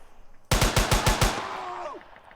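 A rapid burst of about six gunshots from a video game built in Unreal Engine 4, sharp and loud and evenly spaced, followed by a brief fading metallic ring.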